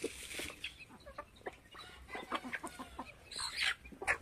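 Farm chickens cluck in short, irregular bursts, with a few sharper calls standing out near the end, all fairly faint and close by with no talking.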